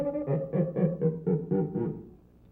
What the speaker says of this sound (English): It is a friction drum. It has a stick attached to a skin head